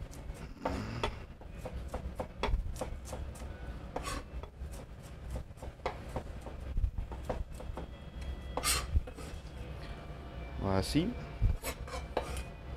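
Red onions are coarsely chopped with a knife on a board, giving a series of close, sharp taps and scraping cuts at an uneven pace, with a brief spoken word.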